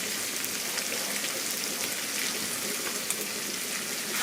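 Ground beef and vegetables with tomato paste and flour fry in a pan for a shepherd's pie, giving a steady, dense sizzle like hissing rain that holds evenly throughout without any voices.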